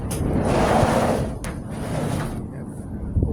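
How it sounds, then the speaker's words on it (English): Sliding door of a 1978 VW Bus being worked, a rolling scrape followed by a clunk and a second sliding sound, heard up close. "Sliding door."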